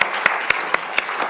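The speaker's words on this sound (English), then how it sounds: "how about another round of applause for Dr. Marita, Donnie, and David" Applause from an audience, a dense wash of clapping with a few sharper, evenly spaced claps standing out.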